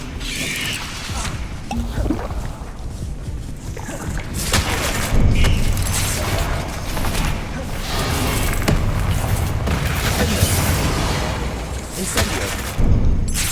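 Confringo blasting spells exploding in a Harry Potter video game, a long run of heavy booms and crashing impacts with crackling debris, loud and repeated, mixed with battle noise and a speaking voice.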